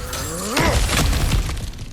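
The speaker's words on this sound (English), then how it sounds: "back to smashing through things for fun and profit" An object shatters with a sharp crash and scattering debris in God of War Ragnarök, a single close break over a low rumbling game background.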